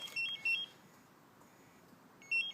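Alarm system on a 2006 Yamaha R1 motorcycle chirping in short high electronic beeps, a pair near the start and another after a pause, fairly faint over quiet background.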